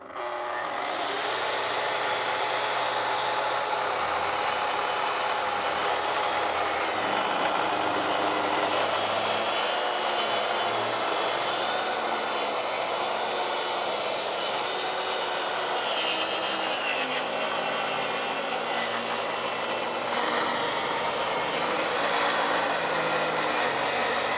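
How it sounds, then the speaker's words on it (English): A power saw, apparently a track saw, rips a wooden board in half in a woodshop, producing a loud, continuous whining roar that holds steady for the whole long cut with no talking. "So I'll cut this in half, make another cut along this edge to have a straight edge."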